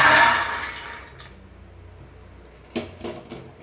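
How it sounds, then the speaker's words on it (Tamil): Roasted peanuts poured from a pan onto a plate: a brief rushing rattle at first, then a few light clinks and knocks of cookware after a short pause. "இப்போ கடலை நல்லா வறுத்துட்டேன் எடுத்து கொட்டிடலாம் ஒரு தட்டில் கொட்டிட்டு"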